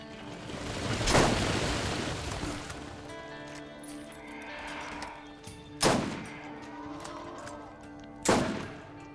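Gunshots from the Borderlands video game, three sharp cracks spaced several seconds apart, the first loudest, over a low hum of game ambience with no talk.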